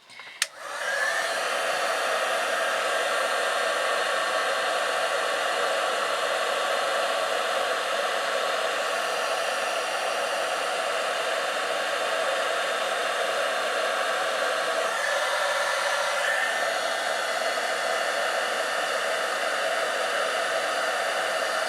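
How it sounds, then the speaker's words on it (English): A heat gun blows on embossing powder over chocolate chip cardstock, giving a steady, loud, airy whoosh that holds unbroken for about twenty seconds after a sharp click on. "So back in with the heat gun."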